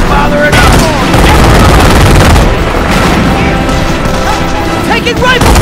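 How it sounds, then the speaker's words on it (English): Dense rifle and machine-gun fire with explosions and crashes in the World War II strategy game Company of Heroes, loud and continuous, with radio-style unit voices calling out over the battle. "Taking rifle fire!"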